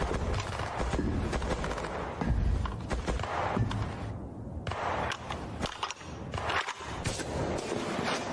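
Sniper gunfire rings out in a Hindi-dubbed Hollywood action scene, a dense clatter of sharp shots and impacts mixed with other action noise, with a brief lull in the middle.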